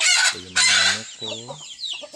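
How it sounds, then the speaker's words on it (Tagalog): Native chickens fed organic feed cluck and squawk nearby in a few loud, distinct calls, with quieter chatter of the flock in between. "Ito yung mga manok ko."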